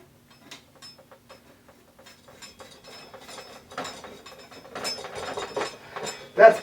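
A headset nut being tightened on a vintage Pinarello bicycle gives off a run of small metallic ratcheting clicks. They start sparse and faint, then grow busier and louder, ending on a sharper final click.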